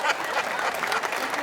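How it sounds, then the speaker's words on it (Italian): An audience claps in a brief, dense burst of applause at an outdoor comedy show in a town square, a steady patter of many hands. "Applauso."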